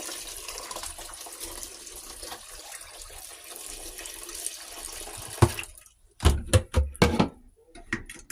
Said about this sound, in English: So now I have my double filtered Brita. I want to fill this right up to the top.